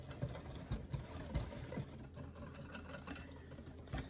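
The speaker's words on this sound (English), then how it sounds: "I'm using Epicure's whisk to whisk my mix together." A hand whisk beats gluten-free cake batter made with oil and apple cider vinegar in a bowl, giving quiet rhythmic clinks and scrapes throughout, close and steady.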